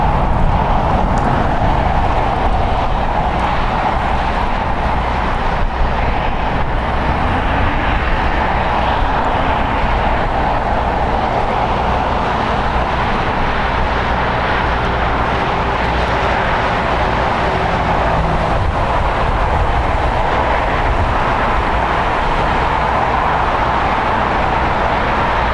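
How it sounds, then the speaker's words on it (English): Spirit Airlines Airbus A320, four years old, landing on the south side at LAX after a flight from Baltimore, heard as a loud continuous jet engine roar with a steady low rumble and a faint whine, no voices. "Landing here on the south side, Spirit Airlines, flight 2329."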